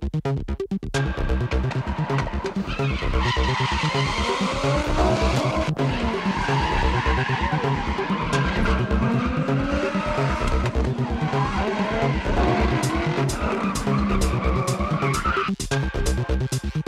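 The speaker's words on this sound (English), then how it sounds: "It's drifting time." Car drifting with continuous skidding and squealing tires over a revving engine, loud and sustained throughout with sharp screeches and shifting pitch as the car slides.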